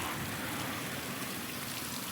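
Water gushing steadily from a pipe damaged by excavation work, spreading across the ground, a continuous broadband splashing hiss with no pauses.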